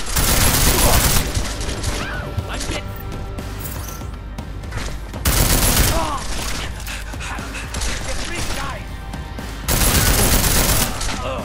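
Dense bursts of rapid gunfire crack loudly in the video game Deus Ex: Mankind Divided. They come in three heavy volleys, with clatter and debris sounds between them.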